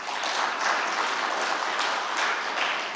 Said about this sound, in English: I thought you'd clap for that